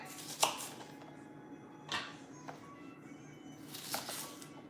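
Knife chopping vegetables on a board for Haitian epis green seasoning, a few sparse sharp cuts spaced about a second apart, close and moderately quiet.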